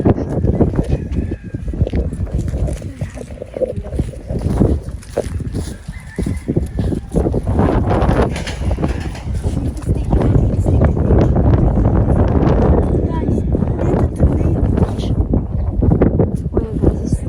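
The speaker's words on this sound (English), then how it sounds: "Wait, guys, it's super windy right now." Strong gusty wind during a tornado watch, buffeting the microphone with loud rumbling roar throughout, with people talking over it.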